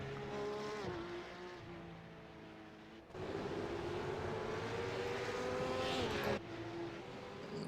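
Supercars racing at Spa circuit, engine notes droning and shifting pitch as cars pass, with abrupt cuts between loud stretches of roaring motors.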